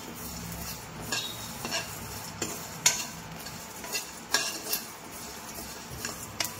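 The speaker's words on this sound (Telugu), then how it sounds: "ఒక కప్పు నువ్వులు, ఒక చిన్న ఎండు కొబ్బరి కూడా వేసుకొని మంచిగా ఇవన్నీ బాగా ఫ్రై చేసుకోవాలి" Peanuts, sesame seeds and dry coconut roast in a pan. A spoon scrapes and clinks against the metal in scattered strokes over a faint sizzle, with sharper knocks now and then.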